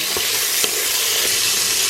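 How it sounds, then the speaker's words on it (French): Steady loud sizzling of chicken livers sautéing in a pan, with a few soft stirring scrapes, no voices. "j'y ajoute les foies que je fais sauter 2 minutes"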